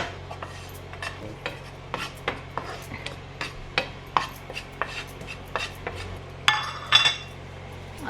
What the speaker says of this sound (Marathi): मंद गॅसवर बेसन भाजून घेते